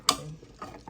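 A utensil stirs beef stew for nilagang baka in a pot, making a sharp clink followed by a few softer scraping taps and knocks within a second, close and fairly quiet.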